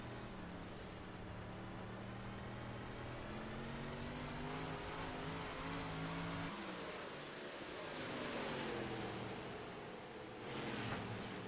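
Race car engine heard on board the number 99 car during a C2CRL league race at Oswego, a loud sustained drone whose pitch climbs and falls through gear changes, with a dip and re-acceleration around the middle.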